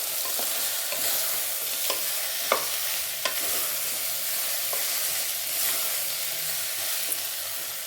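Mixed vegetables and meal maker chunks fry in a pan with a constant bright sizzle, punctuated by several sharp clicks of a spoon stirring against the metal, heard up close and without speech.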